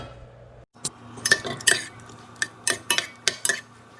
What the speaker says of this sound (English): Just stirring up the beans.